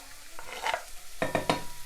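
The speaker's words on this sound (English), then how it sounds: "I'm just putting the onions in just now," Chopped onions sizzle in a hot pan on high heat while a utensil stirs them, with several scraping, clattering stir strokes over a steady close frying hiss, no talking.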